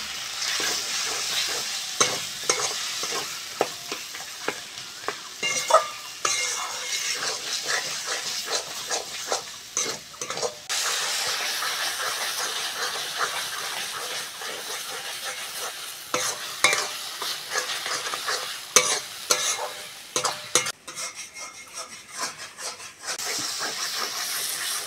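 Turmeric, chilli powder and salt sauté for a tuna fish curry, a constant close sizzle and hiss with frequent scraping stirs and clinks, the texture shifting as the spices are worked, no voices.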